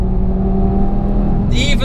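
A turbocharged Audi TT RS engine drones steadily and loudly on track at full pace, a sustained deep revving note with a brief higher whine near the end.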